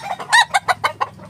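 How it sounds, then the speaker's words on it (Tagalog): A hen gives a string of short, loud clucks and squawks in uneven rhythm, close by. "maingay yung tilapok ng manok"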